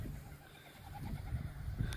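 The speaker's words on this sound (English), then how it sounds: "Y'all pigeons, say goodbye to everybody." White homing pigeons in a backyard loft cooing softly, a few low rounded coos repeating in a gentle rhythm at close range over steady outdoor background noise, with no talking.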